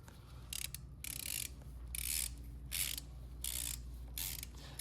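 A ratchet tightening a brake line support on a Honda CRF125F dirt bike, clicking in rapid bursts of several strokes each, close and alone over a low steady hum.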